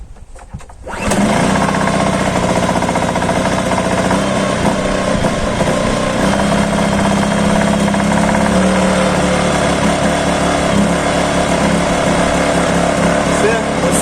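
Voin DV 1500I inverter petrol generator starting and then running at a steady, loud, close-up high-pitched engine drone that holds constant throughout.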